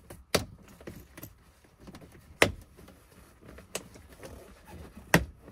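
Keys jangle as they are hung on an Airline L-Track wall storage system, giving several sharp, irregularly spaced metallic clinks that are quiet and close, with faint handling noise between them and no talk.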